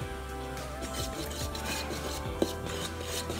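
A thickening sauce is stirred in a pot, giving a soft continuous rasping scrape with one sharp knock partway through, close and fairly quiet with no talk.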